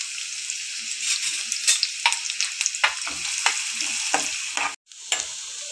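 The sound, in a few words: finely chopped onion being sautéed in a pan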